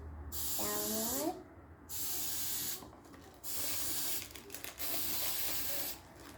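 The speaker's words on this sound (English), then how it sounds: "I got the oil and pan for the cupcakes, and I'm going to spray it." Cooking oil is sprayed onto a cupcake pan in four loud, close bursts of hissing spray, each lasting about a second, separated by short pauses, with a brief voice heard early on.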